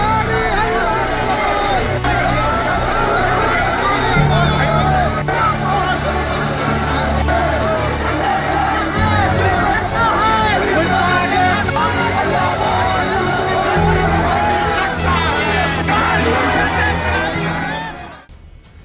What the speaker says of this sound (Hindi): ये भीड़, इस भीड़ की आवाज आज अपने हक के लिए नहीं, बल्कि उत्तराखंड की बेटी अंकिता भंडारी को इंसाफ दिलाने के लिए पूरे प्रदेश भर में उठ रही है